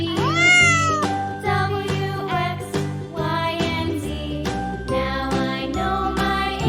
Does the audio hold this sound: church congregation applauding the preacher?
no